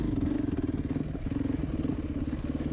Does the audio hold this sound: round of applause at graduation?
no